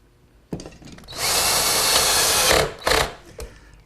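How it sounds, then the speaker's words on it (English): Power drill driving screws from the inside into a walnut table rail, a brief start, then a loud sustained whir lasting over a second, followed by a short second burst. "then attach it with some screws from the inside."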